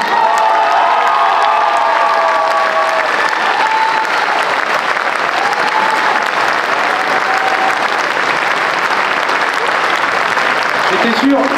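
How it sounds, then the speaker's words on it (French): Political rally crowd at a Roubaix municipal election meeting claps and cheers loudly and without pause, dense sustained applause with shouting voices mixed in throughout. "j'étais sûr que quand elle allait dire Sherazade Bentorki, ça allait applaudir"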